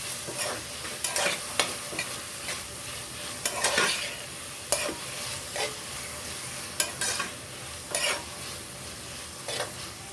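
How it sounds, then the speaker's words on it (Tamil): Steady sizzling of onion and tomato sautéing in a hot pan with intermittent scraping and stirring clatters, close and fairly quiet, no voices. "ஸோ இதையும் ஒரு 1 மினிட் அப்படியே வதக்கிடலாம்."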